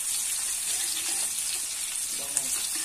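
Garlic and onion frying in a pan, a dense, steady hiss of sizzling oil close up, with faint stirring movement underneath.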